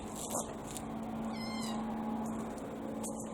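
A cat gives one clear, wavering meow close by in a shop where an old Massey Harris 44 tractor's front steering is being repaired, over a steady low hum and faint background noise.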